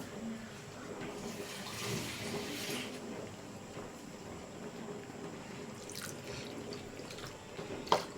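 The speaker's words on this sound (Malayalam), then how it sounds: "ഇനി നമുക്ക് ഇതിലോട്ട് കുറച്ചുകൂടെ വെള്ളം ചേർക്കണം" Water pours steadily into a pot of mackerel chilli curry for a few seconds, a soft gushing splash, followed by quieter trickling and a couple of light clinks.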